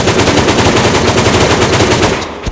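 Rapid machine-gun fire in the Melon Playground video game, a loud, unbroken stream of evenly spaced shots lasting the whole stretch and ending abruptly, with no talking.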